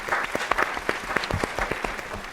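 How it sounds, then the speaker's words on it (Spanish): An audience breaks into applause to welcome a speaker at an entrepreneurship event, a dense patter of many hands clapping at moderate volume, with faint crowd noise beneath. "Le damos un fuerte aplauso al señor Hernán Schuster"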